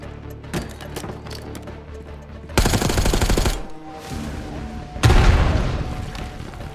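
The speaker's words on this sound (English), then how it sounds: "Tossing grenade." A grenade bursts amid gunfire in the Call of Duty Black Ops 6 video game: low background rumble, then a heavy, loud blast with sustained crackle, a lull, and a second sharp explosion near the end.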